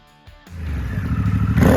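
Quiet at first, then the Harley-Davidson Sportster S engine fires into a loud, rumbling rev that swells and climbs over under two seconds, close by and alone.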